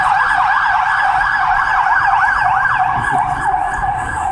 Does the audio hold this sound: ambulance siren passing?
yes